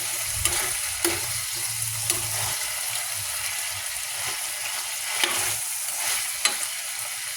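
Chicken adobo fries and dries out in a pan with a loud, steady sizzle, punctuated by occasional scraping stirs from a utensil.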